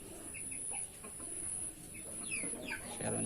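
Chickens, young broilers raised for large size, clucking and chirping in a backyard coop after a flood, with scattered calls over steady background noise.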